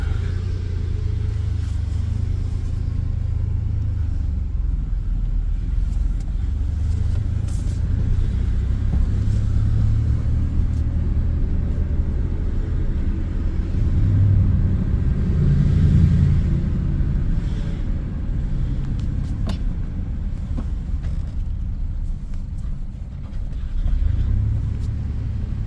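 A Chevy S10 fitted with Holley Sniper fuel injection idles and drives off from a cold start, its low engine rumble steady and close, rising with a few gentle revs as it pulls away, with no talking.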